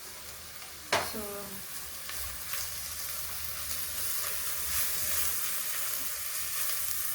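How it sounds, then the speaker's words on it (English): Garlic and ginger sizzle steadily in a new cooking pot after a sharp clatter near the start, with soft stirring scrapes over the continuous frying hiss and a brief spoken word. "Garlic and ginger, which I'm adding."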